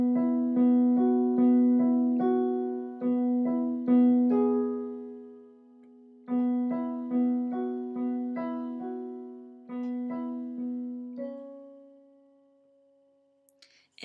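A piano plays an intro pattern as two phrases of repeated, evenly spaced notes that ring and decay, with a pause between them. The playing is close, clear and alone, ending on a sustained note.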